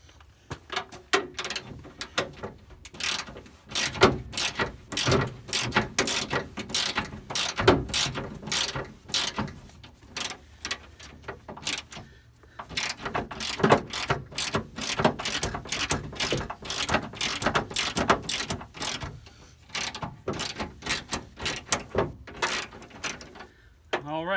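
A ratchet wrench works a bolt on a 1989 Ford F150, making rapid, continuous clicking bursts in uneven runs with brief pauses, close and fairly loud, and a voice is faint now and then.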